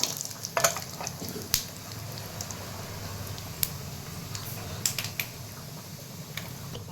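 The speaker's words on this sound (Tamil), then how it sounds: "இதையும் சேர்த்து நல்லா வதக்கிக்கோங்க. இது கூடவே கருவேப்பிலையும் சேர்த்துக்கோங்க." Curry leaves sizzling in hot oil as a tempering for idli sambar, a faint crackling fry with scattered sharp pops and spatters over a low hiss.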